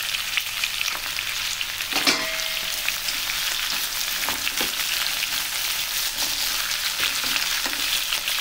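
Onions fry in a hot pan with a steady, dense sizzle, broken now and then by brief louder crackles and stirring scrapes, with no one speaking.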